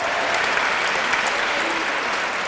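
Audience applause for a poet at a spoken-word poetry event, a steady, dense wash of many hands clapping throughout, fairly close and filling the room with no voices over it.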